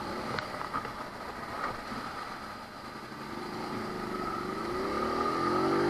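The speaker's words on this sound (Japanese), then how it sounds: "よし、よし、かかった。" A 46-year-old Honda Dax motorcycle's small engine starts and sputters at idle, its irregular putter gradually rising into a steadier, slightly louder rumble.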